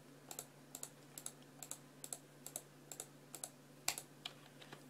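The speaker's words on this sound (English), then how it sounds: "this is just me typing" Someone types a random sentence on a computer keyboard, recorded through a Blue Yeti USB condenser microphone: a steady run of quiet, evenly spaced key clacks with one sharper click, under a low constant hum.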